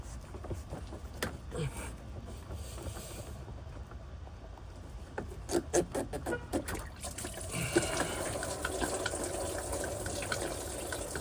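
Coolant drains and trickles from the thermostat housing of a Jeep JK under repair, a soft, close liquid dribble with faint clicks, growing steadier and a little louder toward the end.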